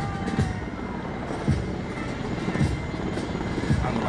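A helicopter flies over the National Day parade in Piața Constituției, and its rotor thump and turbine whine roar steadily overhead, loud and continuous with slight pulsing.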